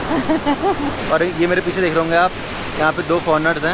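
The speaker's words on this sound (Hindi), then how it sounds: "ये जो गंगा माँ की झरने की आवाज़ है उसको सुन रहे हैं" Ganga waterfall water rushes steadily at Surya Kund in Gangotri, a constant broadband roar running beneath continuous close talking that dominates throughout.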